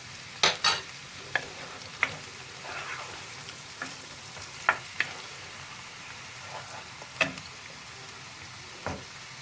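Onions sauté in butter in a pan for bulgur and lentil pilaf, a steady low sizzle broken by sharp clicks and taps of a utensil stirring against the pan at irregular intervals.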